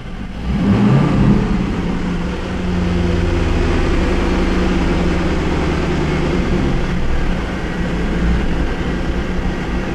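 A car engine idles while running lean during diagnosis of lean fault codes P0171/P0174, a loud close steady drone with a rougher, uneven surge early on, then continuing at a constant level with no talk.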